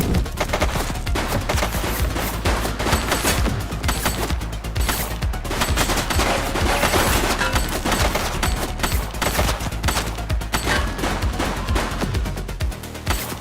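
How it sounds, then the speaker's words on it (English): Sustained bursts of gunfire in a police story video game, dense rapid shots and machine-gun rattle packed over music and effects, loud and continuous for the whole stretch. "He's shooting!"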